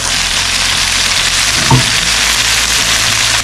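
A side dish is stir-fried in a pan, giving a loud, continuous hiss of frying with one brief clatter partway through.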